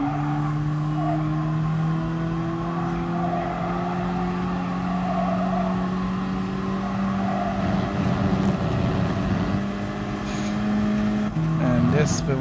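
Race car engine held at full throttle in Gran Turismo Sport, a Gr.4 class car, droning steadily with a sustained harmonic whine that climbs slightly, loud and close, with a voice talking over it.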